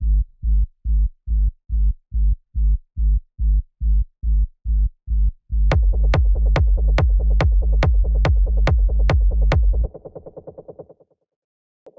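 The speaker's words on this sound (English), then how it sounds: "And we have our rumble" A techno rumble bass layer made from retro samples throbs in evenly spaced heavy low pulses, then swells into a sustained, thick drone with sharp ticks on top before thinning out and stopping near the end.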